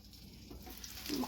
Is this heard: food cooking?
yes